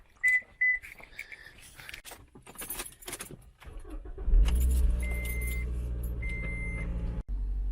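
Keys jangling in short metallic bursts close by, followed by a car engine starting and settling into a steady idle.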